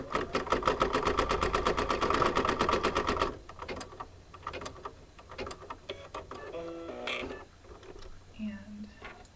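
An embroidery sewing machine stitches an apple-design fabric coaster in a rapid, loud, evenly pulsing burst for about three seconds, then stops, leaving soft handling noises and quiet speech nearby.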